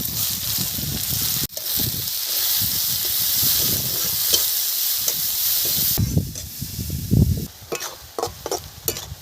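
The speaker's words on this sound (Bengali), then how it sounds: "পেঁয়াজ ভাজা হয়ে গেছে" Onions frying in oil with cardamom and cumin: oil sizzles and hisses steadily, with clinks and stirring noises; the sizzle drops and turns patchier toward the end.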